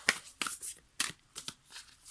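Tarot cards being shuffled up close: quick riffling bursts of papery flicks repeat at a steady rhythm for about two seconds, with no voice.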